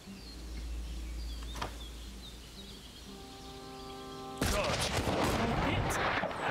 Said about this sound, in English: And everyone starts shooting